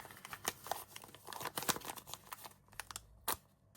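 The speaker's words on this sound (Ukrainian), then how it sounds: "розпакуємо цей величенький пакетик." Crisp plastic crinkles and rustles in quick irregular bursts as packaging is handled and pulled open close to the microphone.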